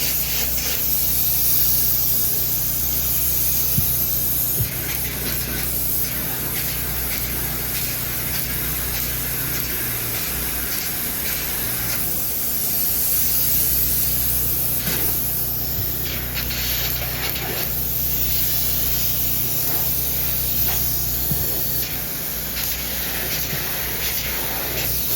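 Spray foam insulation hissing steadily from a spray gun onto a rim joist under a floor, a continuous loud, rushing spray that runs unbroken for the whole stretch with no talk.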